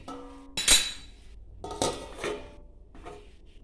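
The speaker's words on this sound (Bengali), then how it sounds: "এবার ঢাকা দিয়ে দেবো।" A metal lid is set onto a cooking pot of taro stolons with prawns, giving a few close, bright clanks and clinks spaced out over a few seconds.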